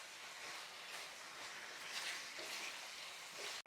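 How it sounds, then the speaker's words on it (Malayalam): Chicken and masala are stirred in a pan, giving a faint, steady broadband sizzle throughout with a soft scraping texture and a sharp cut at the very end, without speech. "ചിക്കനും ചേർത്ത് കൊടുത്തിട്ട് എല്ലാം കൂടി നല്ല രീതിക്ക് ഒന്ന് ഇളക്കി യോജിപ്പിച്ച് കൊടുക്കാം."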